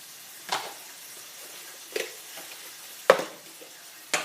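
Almonds are stirred in a hot pan, four separate short scraping sizzles spaced about a second apart over a quiet background, close and without talk.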